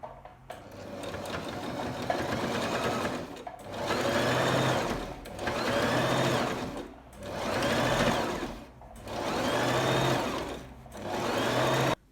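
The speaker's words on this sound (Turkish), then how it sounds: "ön yüzünden dikiş çekiyorum" Sewing machine stitching seams on the front of a raglan-sleeve sweatshirt, running in five or six steady whirring bursts of a few seconds each, separated by short pauses, loud and close with no talk.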